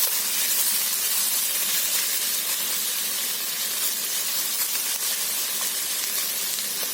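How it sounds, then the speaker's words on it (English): Vegetables sauté in a pan for vegetable cheese pasta with a steady, even hiss and sizzle that holds at one level throughout, close and with no talk. "I'm just gonna saute them a bit"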